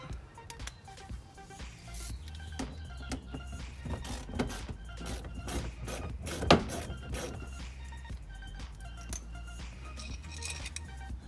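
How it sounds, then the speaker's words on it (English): A ratchet wrench with a 7mm socket loosening a bolt near the battery of a Chrysler Sebring or Dodge Avenger: rapid repeated metallic clicks and light clinks, close by, continuing for several seconds with no talk. "We're going to be removing this one with a 7mm socket."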